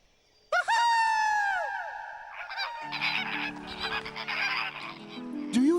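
Cartoon flamingos let out loud, harmonic honking calls that burst in suddenly and sweep downward, followed by a busier, layered stretch of honks over a low sustained musical tone.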